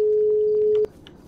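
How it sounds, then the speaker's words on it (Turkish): A telephone tone rings in a GTA 5 roleplay game, a steady beep that holds for under a second before cutting off, with faint background noise. "Telefon çalan kim?"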